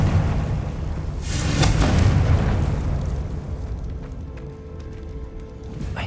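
A Confringo blasting spell detonates in Hogwarts Legacy, a loud, broad explosive roar that swells and then settles into a rumbling, crackling tail, with no talk over it.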